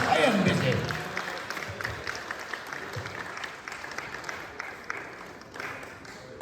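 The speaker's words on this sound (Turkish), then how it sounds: "Alkış" Audience applauding finalist teams at an awards ceremony in Bodrum, a dense steady wash of clapping that is loudest at the start and slowly thins, with a voice faintly audible beneath.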